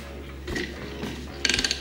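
A Yamaha YZ450F four-stroke engine with its top end being reassembled is turned over by hand with the cam chain held up, giving a few soft mechanical clicks and scrapes and then a quick burst of ratcheting clatter near the end.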